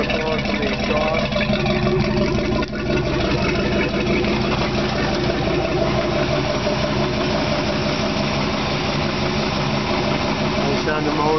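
An idling outboard boat motor with water flowing from the exhaust, a steady close mechanical drone with a continuous rumble and no break, heard alone.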